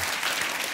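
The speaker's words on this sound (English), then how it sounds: "round of applause for Coach K" A crowd applauds briefly for Duke basketball coach Mike Krzyzewski, a dense burst of clapping from many hands.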